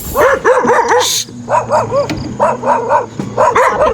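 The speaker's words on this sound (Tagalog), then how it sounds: "Ay, mga aso, guys." Several dogs bark in quick bursts of repeated yaps, close and loud, with short pauses between volleys.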